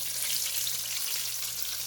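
Corn and cheese samosas fry in hot oil, giving a steady, close bubbling hiss throughout with no pauses.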